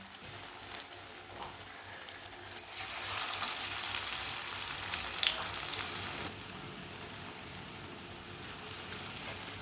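Chicken kebab paste frying in hot oil in a kitchen, a steady soft sizzle and crackle that swells in the middle and then settles, fairly quiet with no talk.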